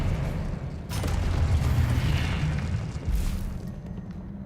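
Spell blasts and explosions in the Hogwarts Legacy video game: a loud, continuous rumbling boom with mechanical creaks. Sharper bursts land at about one and three seconds, with no talk.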